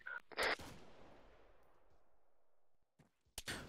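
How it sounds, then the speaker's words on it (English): Gunshots in the video game Arma 3, with a few sharp cracks followed by a long rolling echo fading out, then more shots near the end, distant-sounding and without talk. "That's friendly shooting from north"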